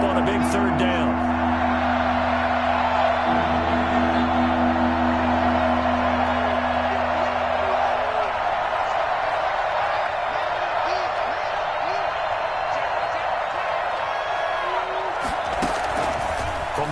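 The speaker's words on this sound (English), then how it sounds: "the crowd getting into it as we come up on a big 3rd down" A stadium crowd in the video game Madden, a steady roaring wash of cheering and noise under a sports commentator's continuous talk.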